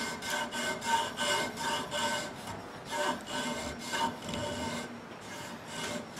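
Rhythmic back-and-forth sawing through wood, close up, with regular strokes about once per second that briefly slow near the end.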